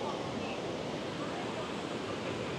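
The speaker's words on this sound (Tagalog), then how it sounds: "Sarap din pakinggan ng mga tubig." Flowing water outdoors near Quebec rushes in a steady, broadband wash, loud and close throughout without a break.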